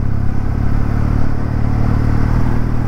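A Kawasaki W650 motorcycle rides over gravel, its engine rumbling loud and close beneath constant broadband road and wind noise, steady throughout with no talking.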